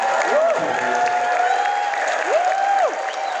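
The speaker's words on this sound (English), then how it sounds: "see that film premiered in front of hundreds of cheering fans" Fans at a film premiere for Matter of Time applauding and cheering, a dense continuous wash of clapping and crowd noise with rising and falling whistle-like tones over it.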